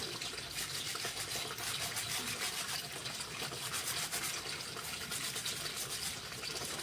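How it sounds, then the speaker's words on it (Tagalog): Running water splashes steadily over shoes as they are washed and scrubbed by hand, with a continuous hiss and a faint brushing rub underneath, close and even throughout. "naglalaba ako ngayon ng sapatos"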